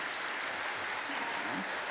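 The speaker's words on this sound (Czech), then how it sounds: "Zatleskejte si, jste zpěvné publikum." Steady audience applause at a students' concert, a dense, even patter of many hands clapping without pause throughout.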